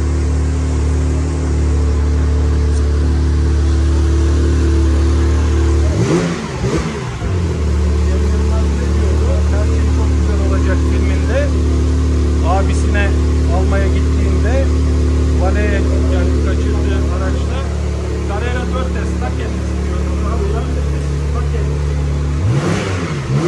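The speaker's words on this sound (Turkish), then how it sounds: "Boxer motor, 6 silindirli." Porsche 911 Targa 4S flat-six boxer engine rumbling steadily while driving with the roof open, with wind and road noise throughout and two brief louder surges partway through; someone talks over it.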